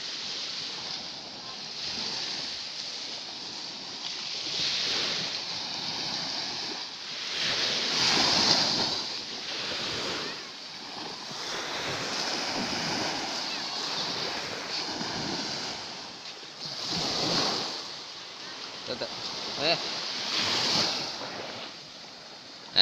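Ocean waves wash onto a beach at Temajuk, Paloh, a steady surging roar that swells and recedes in slow cycles, mixed with gusty wind buffeting close to the microphone.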